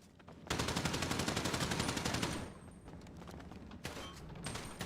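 Video-game gunfire: a long, loud automatic volley of rapid shots, then further bursts of fire after a brief lull.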